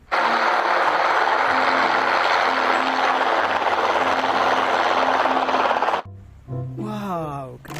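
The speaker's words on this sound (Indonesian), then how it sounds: "ada helikopter" A toy helicopter with spinning rotor blades gives a steady loud mechanical whir with ratchet-like clicking for about six seconds, then stops abruptly as a voice starts talking.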